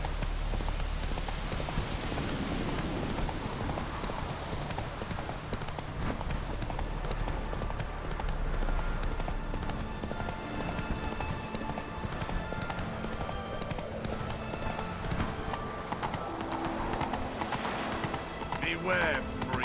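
Roach the horse gallops in The Witcher 3, with steady clip-clop hoofbeats running throughout, an occasional whinny, and game music and ambience underneath.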